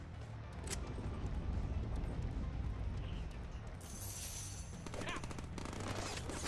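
Rapid gunfire from a weapon in the Deadpool video game, a dense, steady clatter of shots running throughout, close and loud with a sharper burst of mechanical rattling toward the end.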